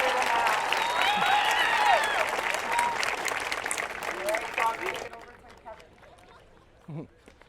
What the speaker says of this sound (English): let's give a round of applause to the Stamford Fire Department